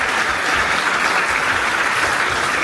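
A film festival closing ceremony audience in Dinan claps steadily as a short-film team is called up. The applause is loud, dense and continuous throughout, with no pauses.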